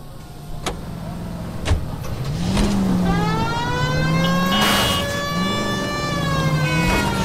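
A car engine in the L.A. Noire video game starts and revs, its pitch rising and falling as the vehicle accelerates and drives, loud and close, with a few clicks and thumps at the start.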